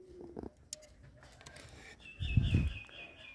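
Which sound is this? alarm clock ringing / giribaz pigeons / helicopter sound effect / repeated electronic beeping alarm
giribaz pigeons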